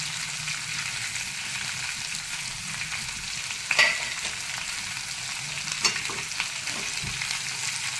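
Peanut chutney being stirred into a frying dry curry of eggplant in a pan, a continuous close sizzle with spoon scrapes and a couple of sharper clinks against the pan.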